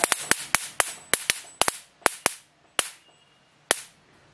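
A rapid series of sharp firework bangs at a Dussehra Ravana burning in Indore, about a dozen loud cracks in quick irregular succession that slow and space out toward the end.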